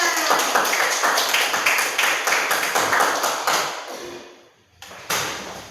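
Hands clap in a steady, fairly quick rhythm close by, a run of distinct claps lasting about four seconds before fading. After a short pause a single sharper knock or clap lands.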